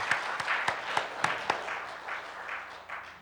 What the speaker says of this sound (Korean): 우리 주 하나님께 영광의 박수